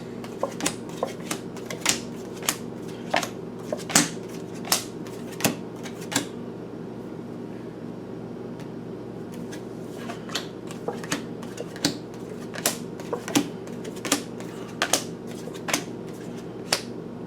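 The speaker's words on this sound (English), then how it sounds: "we're going to start with the tarot cards and see what we're going to get for Cancer" Tarot cards are shuffled close by in a quiet room, giving a run of crisp, irregular flicks and riffle snaps under a faint steady hum, with a short lull partway through and no talking.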